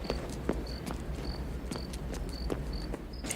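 Crickets chirp steadily in a nighttime film scene, a regular train of short high pulses repeating about twice a second over a low background rumble, with no voices.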